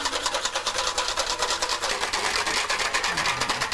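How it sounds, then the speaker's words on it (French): Small electric hand whisk whipping cream, a steady close motor whir with a fast, even rhythmic pulse running throughout without pause. "un petit fouet électrique pour les feignants"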